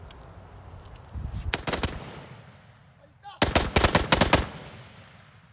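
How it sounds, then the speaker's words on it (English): Two loud bursts of rapid gunfire from a firearm fitted with a binary trigger, shot outdoors in a backyard at a target, each burst a quick string of close, sharp cracks separated by a short quiet gap. "about to test out this binary trigger"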